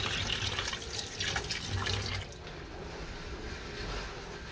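Tap water runs steadily into a sink to soak tuna, splashing and hissing close by for about two seconds before easing to a softer, quieter flow.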